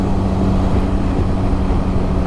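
A Benelli TRK 502 X 500cc adventure motorcycle cruises at nearly 70 mph around 6,000 rpm, a steady, loud engine drone blended with heavy wind rush, unbroken for a couple of seconds with no talking.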